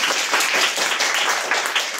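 A Grade 5 classroom claps for a student, a brisk burst of many hands clapping in a quick, uneven rhythm, close and fairly loud.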